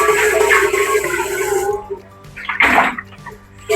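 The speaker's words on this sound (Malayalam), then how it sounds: "കുറച്ച് തണുത്ത വെള്ളം എടുക്കാം." Cold water pours into a container while a jelly cake is being made at home, a steady close splashing stream that fades, followed by a short renewed gush and a brief final splash.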